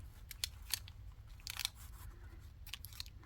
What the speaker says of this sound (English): I'm going to have to cut some of the doily off